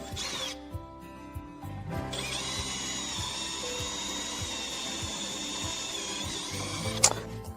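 A power drill bores holes in the body of a Volkswagen Caddy, a steady high whine running for about five seconds after a few short starts, ending with a sharp click.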